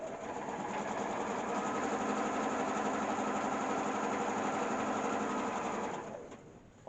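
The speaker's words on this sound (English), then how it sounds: "You can do a couple of locking stitches, back stitch there." Sewing machine running continuously while stitching an outdoor sofa replacement cushion cover, a close, steady buzzing whir that slows and stops near the end.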